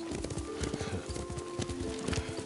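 Horse hooves clip-clop in a quick, steady rhythm as a horse is ridden in the video game Ghost of Tsushima, close and continuous, with a short whinny over ambient game sound.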